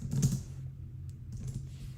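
Typing on a computer keyboard while running code on a remote cluster: a short burst of close, quick key clicks, fairly soft, with no talking.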